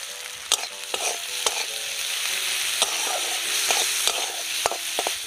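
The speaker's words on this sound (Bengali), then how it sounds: "নিয়ে পেঁয়াজটা আমি একটু ভেজে নেব বেশি ভাজবো না অল্প ভাজবো" Chopped onion frying lightly with salt in a pan, a steady close sizzle broken by sharp scrapes and taps of a spatula stirring at irregular intervals, with no voices.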